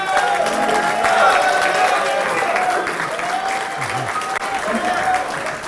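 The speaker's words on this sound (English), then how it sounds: "I deserve those claps" A comedy show audience claps and murmurs loudly for a comedian in continuous, dense applause, with a voice faintly heard beneath the crowd.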